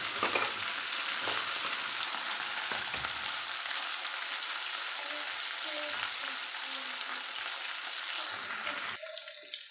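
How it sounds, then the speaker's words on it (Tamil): Okra sizzles and fries steadily in a hot pan for a South Indian stir-fry, a close, continuous crackle with occasional stirring scrapes; near the end the frying drops away and a faint tap-like hiss remains. "காய் நல்லா வணக்கிக்கலாம்"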